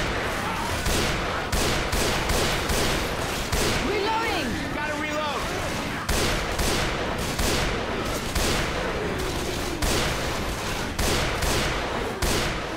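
Dense bursts of gunfire from shooting in Left 4 Dead 2 on the Warcelona mod map, with rapid overlapping shots that keep going steadily and loudly throughout, plus faint voices now and then.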